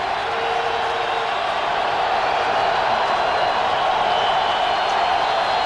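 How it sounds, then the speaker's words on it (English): A packed stadium crowd at a 2005 NFL game between the Oakland Raiders and Washington Redskins roars steadily on a third-and-long play, a continuous loud wash of cheering with no break. "This crowd making a lot of noise."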